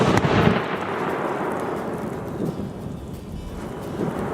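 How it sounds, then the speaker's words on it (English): A space heater sitting in a 10-gallon tote of gasoline blows up: a sudden loud blast, then a heavy roaring rumble that stays strong for several seconds. No voices are heard. "Well, that explosion wasn't big enough."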